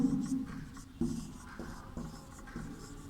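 Chalk or marker writing on a board during a Sanskrit lesson, a series of short scraping strokes with small taps between them, close and moderately quiet, with no voice.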